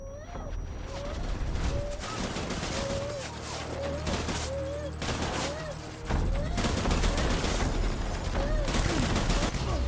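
Gunfire in Death Stranding crackles in repeated bursts over a steady rumble, with a rising-and-falling electronic warbling tone looping through and a louder stretch near the end.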